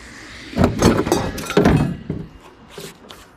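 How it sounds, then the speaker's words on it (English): A vehicle door is lifted free from a car or truck after its last screw and bolts are removed, giving a few heavy, close thunks and metallic clatter in quick succession, then quieter handling noise. "Door is completely out."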